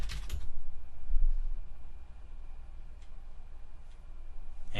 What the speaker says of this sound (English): I'll go ahead and type it all out